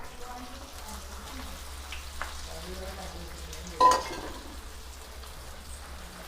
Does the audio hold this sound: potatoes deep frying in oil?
yes